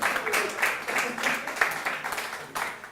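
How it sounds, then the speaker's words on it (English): A conference audience at a Blackmagic Design expo session gives a short, thin round of applause, loose individual claps pulsing unevenly for a few seconds. "Round of applause for yourselves."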